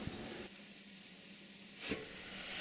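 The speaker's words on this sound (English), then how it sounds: "The cylinder cocks are opened so the steam can escape" Steam hisses steadily from the open cylinder cocks of a steam locomotive at the North Norfolk Railway, a broad, loud, continuous rush with a brief sharper surge near the end.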